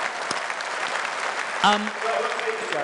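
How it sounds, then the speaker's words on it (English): A crowd at a political rally in Birmingham applauds with dense, steady clapping throughout, joined partway by a brief whistle or cheer rising above the noise. "Should give him a big round of applause for Tice"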